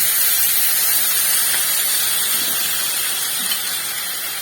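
Prepared sauce goes into a hot pan of chilli chicken with a loud, steady steaming hiss that holds close and constant throughout, with no talk.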